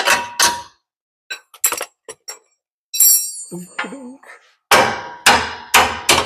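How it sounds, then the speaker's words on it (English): Sharp metallic hammer blows ring out close by, a pair at the start and a quick series at the end, with scattered clinks and brief speech between, while a metal part is hammered back during an engine and C6 transmission test fit. "Just hammer that back."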